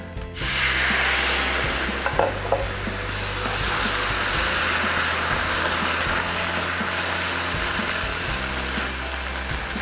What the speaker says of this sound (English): now I'm gonna add in the vodka